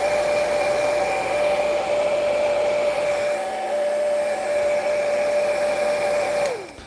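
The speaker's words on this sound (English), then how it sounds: "everything I do with the heat gun is just to speed things up for demo purposes" A heat gun blows steadily, drying paint on a plastic model kit. The loud continuous whine and rushing air hold nearly unchanged, then the pitch drops as it powers down at the end, with no speech.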